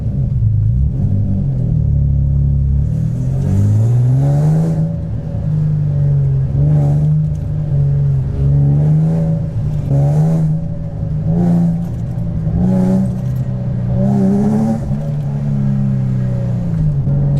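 A car's engine drones and revs steadily from inside the cabin on a test drive after a differential bushing replacement, its pitch rising and falling through repeated accelerations, loud and continuous without talk.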